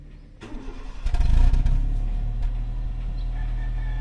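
A car engine is cranked by the starter, catches and revs up loudly, then settles into a steady idle, recorded close up near the exhaust.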